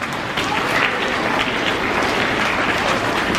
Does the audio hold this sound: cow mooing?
no